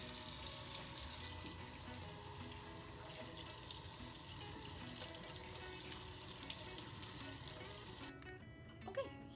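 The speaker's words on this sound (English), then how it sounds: "I rinse my chicken with cold water" Raw chicken rinsed under a running cold-water kitchen tap, a steady faint hiss and splash of water continuing throughout, cutting off near the end.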